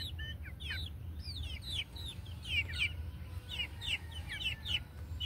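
Hybrid pullet chickens clucking and chirping in a repeated series of short calls, fairly close over a low steady background rumble, with no talking.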